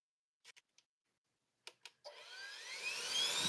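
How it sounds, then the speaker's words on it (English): A few sharp clicks, then a Stihl handheld jet blower starts up with a loud rushing roar and a high whine that climbs steadily in pitch. "it's a jet blower"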